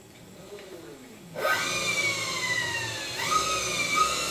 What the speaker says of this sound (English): Motor's working.